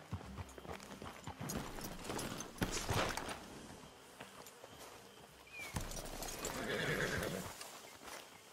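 Horses in the Red Dead Redemption 2 game whinny and neigh with clip-clopping hooves, fairly close and loud, two bursts of neighing over a steady hoof patter.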